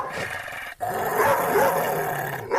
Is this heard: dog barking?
yes